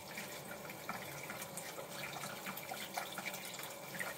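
Running water from a tap splashes steadily as someone rinses off while shaving, a continuous close hiss with small splashes and drips and no talk.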